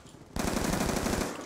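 Automatic gunfire in the video game Black Ops 2 erupts suddenly after a brief quiet moment, then continues as a dense, steady, rapid stream of loud shots without pause.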